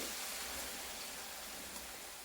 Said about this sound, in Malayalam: ഇവിടെ എന്തായാലും നല്ല മഴയായിട്ടോ